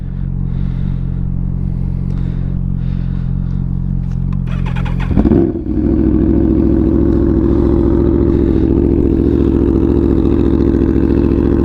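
Aprilia RSV4 sport motorcycle with a straight-pipe exhaust, heard as a loud, continuous engine drone that shifts in pitch midway through, rising into a raspier, higher roar that holds steady to the end with no talking.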